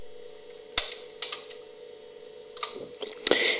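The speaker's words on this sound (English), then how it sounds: "We can hear this clicking noise when I enter the rewind mode" An old VCR deck's solenoid clicks as the machine enters rewind mode, a few sharp, close mechanical clicks spaced apart over a steady low motor hum.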